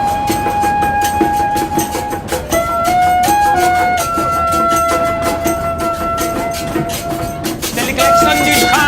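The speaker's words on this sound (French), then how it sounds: "C'est le klaxon du train, et en plus mélodieux à la brésilienne." A Brazilian train horn sounds a long melodic sequence of sustained tones that shift in pitch, loud over steady rumbling rail noise and clatter.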